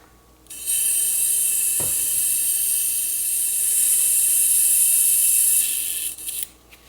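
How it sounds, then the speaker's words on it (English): A close, loud airbrush sprays a continuous hiss for about five seconds while being cleaned out, with a single faint click early on and a few short bursts as it cuts off. "So I'll clean out the airbrush."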